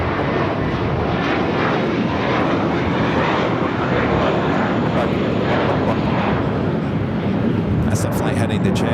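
A Qantas Airbus A380 taxiing at Los Angeles International Airport, its jet engines a steady, loud, continuous roar holding evenly throughout, with a voice talking over it.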